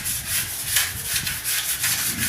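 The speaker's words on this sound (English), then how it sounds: "sanding away" Drywall finish being sanded on a wall during house construction, a steady rasping scrape with rhythmic strokes repeating about every half second, close and continuous.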